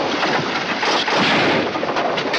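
Gunfire in a 1950 Western film, a dense rolling barrage of shots blurring into a loud, continuous roar for a couple of seconds, with no voices.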